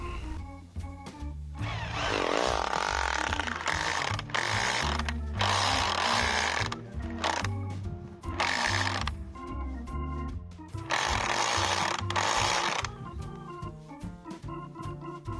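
A loud hammer drill with a firewood-splitting bit grinds and hammers in long bursts with brief pauses, a harsh rattling drone biting into and splitting wood, close by and with no talking.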